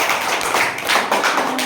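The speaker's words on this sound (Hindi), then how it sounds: "तो शुरू होने से पहले आप सब अपने लिए ताली बजा दो।" A group of children claps for themselves during a classroom rhyme game, giving a brief burst of quick, uneven hand claps that are close and fairly loud, with no talking.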